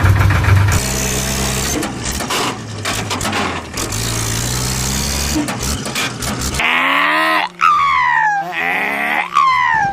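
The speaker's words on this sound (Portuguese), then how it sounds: "Já bora testar o motor aqui pra ver se ainda tem alguma coisa que preste." Worn-out truck engine running under test in World Truck Driving Simulator, a rough, uneven drone in the first part giving way to sharper whining, rising tones, with a voice talking over it throughout.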